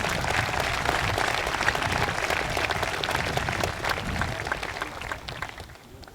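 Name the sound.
audience applause for the senior class at a convocation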